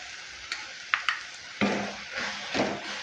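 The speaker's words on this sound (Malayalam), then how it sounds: "നന്നായിട്ട് ഇതൊന്ന് വഴറ്റിയെടുക്കുക." A chilli, coriander, pepper and turmeric powder masala sizzles softly in a pan while a spoon scrapes and stirs it, with a few sharp clinks against the pan between the stirring strokes.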